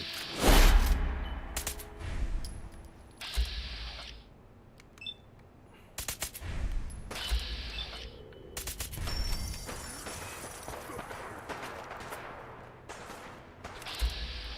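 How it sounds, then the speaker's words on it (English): Enemies fire guns in the Fallout 4 video game. Several separate bursts of shots crack out in clusters, some sharp and near, others duller. Mechanical clicks fall between them over a low background, with no talking. "Why do I got all these random dudes just shooting at me out of nowhere?"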